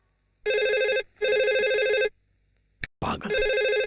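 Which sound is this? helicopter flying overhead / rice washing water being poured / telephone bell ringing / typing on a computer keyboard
telephone bell ringing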